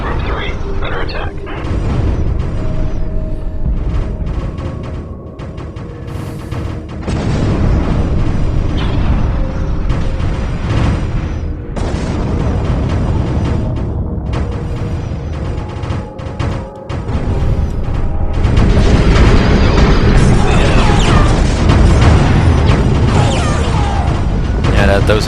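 Loud, dense explosions keep booming as enemy heavy fighters are destroyed in a Homeworld space battle, mixed with continuous game noise and radio-style voice chatter throughout.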